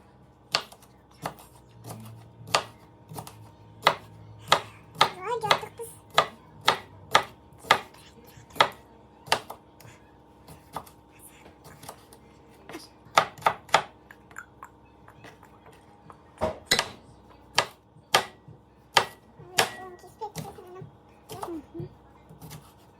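A knife chops cucumber on a board in a steady run of sharp, close taps, some quick bursts and brief pauses between, loud and clear with no talking.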